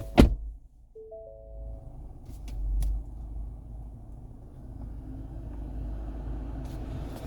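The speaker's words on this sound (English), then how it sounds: "My foot on the brake and start it up." A car is started with the driver's foot on the brake: a sharp thump, then a steady low engine rumble settling into a quiet idle close by, with faint clicks and a brief swell partway through.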